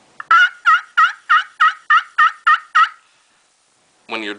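A Primos turkey call imitates a turkey with a run of nine evenly spaced, loud yelps, followed by silence and then a brief rustle or handling noise near the end.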